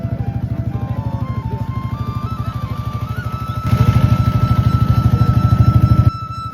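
The engine of a small wooden boat crossing the Sonadubi haor wetland chugs in a fast, steady rhythm close by. It grows louder midway, then eases back, with no talk over it.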